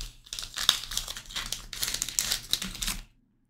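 Panini Select football card value pack being ripped open, a run of crisp crinkling and tearing foil wrapper bursts lasting about three seconds, close and fairly loud, then quiet.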